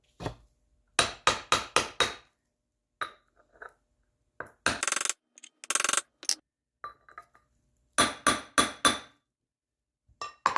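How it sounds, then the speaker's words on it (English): A socket is hammered to drive a wheel bearing down on a 350 Warrior, with quick bursts of sharp metallic strikes, four or five hits per burst, separated by pauses, loud and close with no talk. "you can use your socket to hit this thing down in there too"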